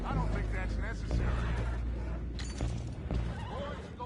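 A horse whinnies amid busy Red Dead Redemption 2 game audio, with voices and background sounds mixed in, fairly loud throughout.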